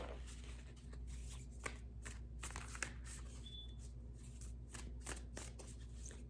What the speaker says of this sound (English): So let's do the shuffle and see what comes out.